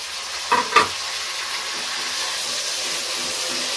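Garlic fries in a pan with a soft, steady sizzle and hiss, and a couple of brief stirring clatters come early on.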